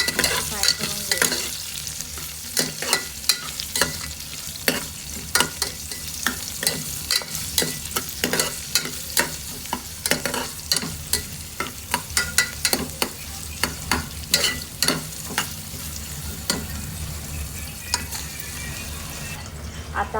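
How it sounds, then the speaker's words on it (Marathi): Onions frying with curry leaves in a pan for tadka dal khichdi make a loud, continuous sizzle, with frequent sharp scrapes and clacks of a spoon stirring throughout. "आणि कांदा. आता बघा थोडंसं फ्राय करून घेऊ."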